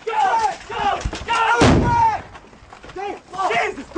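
A grenade bursts during a close quarters gunfight in Iraq, a single sharp, loud blast in the middle of tense shouted talk between soldiers.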